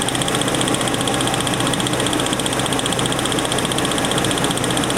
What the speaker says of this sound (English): now we have a spark misfire